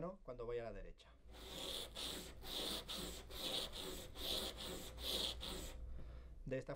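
A chip carving knife blade is drawn back and forth across an abrasive sharpening surface in steady rhythmic rasping strokes, about eight passes, close and quiet, with a person speaking briefly at the start and end.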